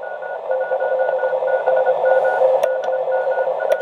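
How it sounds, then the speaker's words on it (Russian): A uSDX QRP amateur radio transceiver receiving contest signals hisses with overlapping beeping signals and faint steady tones, with brief clicks of static cutting through. "Сейчас идут контесты, понятное дело,"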